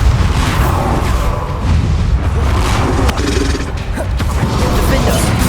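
Blasting Bombarda spell explosions in Hogwarts Legacy, a dense, loud run of booming impacts and rumbling roars that keeps going with little letup, while a voice speaks over the din.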